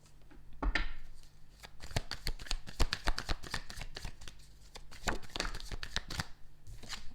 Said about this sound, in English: I'm going to put them back in and shuffle again.